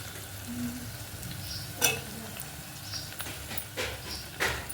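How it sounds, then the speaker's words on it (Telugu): Ginger garlic paste frying in hot oil for a tomato fenugreek curry, with a faint steady sizzle and a few spoon scrapes and clacks against the pan as it is stirred. "అల్లం వెల్లుల్లి పేస్ట్ అయితే వేసుకుంటున్నాను. బాగా ఇలా కలుపుకోవాలండి."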